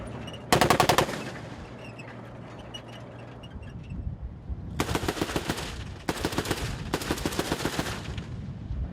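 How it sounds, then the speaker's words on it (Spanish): Soldiers on patrol near the Sambisa forest fire preventive machine-gun bursts: one short burst, then three longer rapid strings of sharp, loud shots after a pause, echoing over steady outdoor background. "Los soldados hacen disparos preventivos para desemboscar al enemigo."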